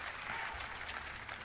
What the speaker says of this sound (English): Very minor claps